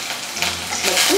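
Garlic paste hitting hot oil with mustard seeds and cumin gives a short, steady sizzle and spatter, close up, with no voice over it.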